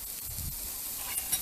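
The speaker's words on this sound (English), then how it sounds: "She is definitely sizzling." Hamburger meat sizzles and crackles steadily in a hot mess-kit pan over a Dakota fire pit, a soft continuous frying hiss with faint stirring.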